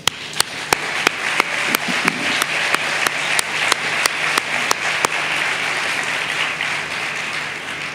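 Crowd applause at the 2013 Adventure Travel World Summit in Namibia, with sharp periodic knocks or taps cutting through the first five seconds of sustained, fairly loud clapping.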